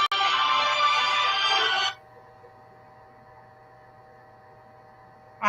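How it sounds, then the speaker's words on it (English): A phone rings loudly for about two seconds and then cuts off, leaving a low hum, with a brief burst returning at the very end. "When you're in the dispatching business, your phone rings all the time."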